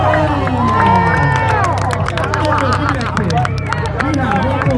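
A packed crowd at a Knicks watch party in Manhattan erupts in loud, continuous cheering, whooping and scattered clapping, with shouts rising and falling over a constant hubbub of voices.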